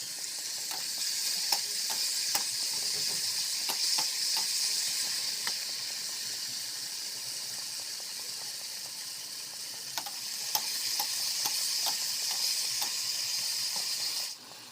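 Tomato masala with salt, turmeric and cumin powder sizzles steadily in a pan, a continuous close hiss with intermittent scraping clicks of a spoon stirring throughout.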